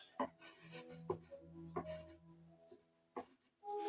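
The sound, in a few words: scraping match striker material into a container and mixing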